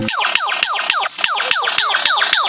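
A lyrebird mimics emergency sirens, repeating a rapid wailing siren sweep about ten times in quick rhythm, loud and close, much like an ambulance or police car siren.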